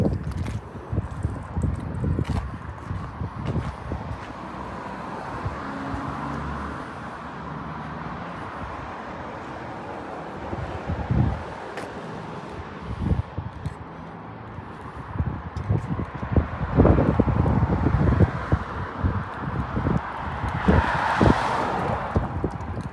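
Steady wind noise buffeting outdoors along Route 66, gusting stronger toward the end, with scattered thumps and rustles.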